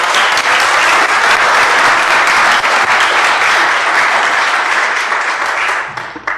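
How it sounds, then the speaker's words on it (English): Loud, dense applause fills a city council meeting room, many people clapping continuously before it tapers off at the end. "I'd really like to give Linda a round of applause, her and her staff."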